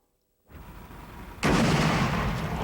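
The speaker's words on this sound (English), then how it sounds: "It is an illegal M1000 that blows up this house and a legal bottle rocket that burns this mannequin of a little boy." An illegal M1000 firework detonates and blows up a house in a safety demonstration: low rumbling noise starts after a silent moment, then a sudden loud broadband blast that keeps roaring.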